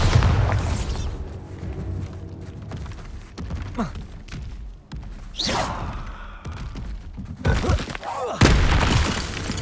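Bombarda spell blasts in Hogwarts Legacy, a run of loud booming explosions with shattering debris and heavy thuds following one another in quick succession, with a voice calling out spells.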